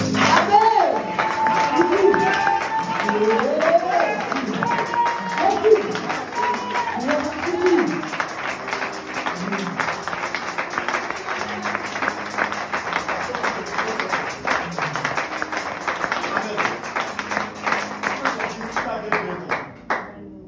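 A church congregation claps and cheers in acclamation, dense rhythmic clapping and raised voices filling the room steadily for about twenty seconds before cutting off.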